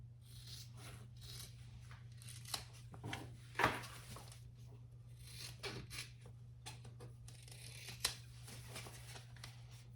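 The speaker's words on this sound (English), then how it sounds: "she wants you to trim the seam, the whole seam allowance too, just a little" Scissors trim the seam allowance on fabric for a sewn crossbody bag, making quiet, close snips and rustles scattered through a soft steady hum, with a few sharper cuts standing out.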